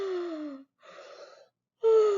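A storyteller's voice imitates a sheep's drawn-out yawn in a bedtime story, heard alone as two long breathy, moaning exhalations with a short pause between them and a louder third starting near the end.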